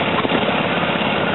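Unstyled John Deere Model A tractor engine running at an outdoor steam thresher show, a steady low rumbling drone, close and continuous through the short span.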